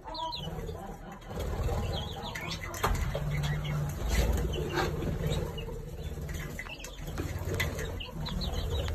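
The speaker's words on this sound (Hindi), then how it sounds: "ये देखें कितने तोते आ गए" A flock of parrots arrives at a feeding spot where birds are eating, with a busy, continuous rush of wing flaps and scattered chirps close by, blended with steady outdoor background noise.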